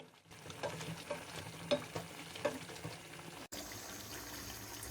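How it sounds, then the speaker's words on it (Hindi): Chicken karahi sizzles and fries with its spices in a pan, a steady close frying hiss with a few sharp stirring knocks, then the sound cuts briefly and continues more quietly. "अब हम इसको अच्छे तरीके से भून लेंगे।"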